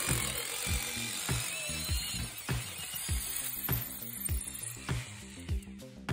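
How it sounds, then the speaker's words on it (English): A pilot drill bores into concrete for a passive radon system fix, loud and continuous with a rough grinding tone and repeated rhythmic hammering impacts, close up and without talk. "I'm gonna try to push through and see if I can't break through with this pilot drill"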